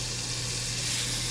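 Minced garlic sizzling in butter and oil in a pan, a dense steady crackling hiss, close and continuous.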